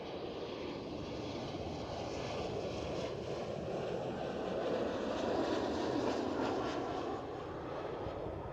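Eastern Airways airliner at Amsterdam Schiphol, a steady broadband engine roar at moderate distance that swells slightly in the middle and then eases, with no talk.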